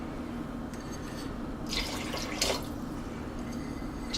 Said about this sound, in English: And then some water.